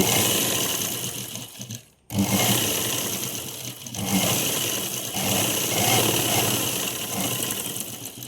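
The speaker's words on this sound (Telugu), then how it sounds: "మిగతా క్లాత్ని ఇలా స్టిచ్చింగ్ చేస్తున్నాను" A sewing machine runs steadily, stitching cloth for an umbrella frock, with a continuous close mechanical whir that stops briefly and then starts again.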